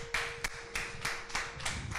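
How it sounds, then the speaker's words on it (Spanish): Scattered hand clapping at a Spanish-language church gathering, several distinct claps in an irregular rhythm, fairly faint and without voices over it. "Un fuerte aplauso para el Señor"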